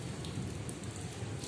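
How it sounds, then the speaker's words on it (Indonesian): Steady rain pattering outside during an indoor counseling session, a dense, even wash of drops with no voices, held at a constant level throughout. "ini kan lagi hujan ya soalnya, jadi ada namanya gembleger ya"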